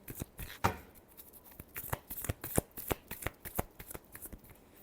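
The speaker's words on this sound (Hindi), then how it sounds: "लिब्रा के लिए लास्ट शफल" Tarot cards are shuffled by hand in a run of crisp riffling flicks and soft slaps, close and fairly quiet, with no one speaking.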